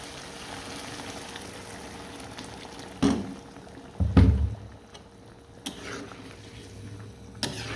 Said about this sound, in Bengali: এখন আমি গরম পানি দিয়ে দেবো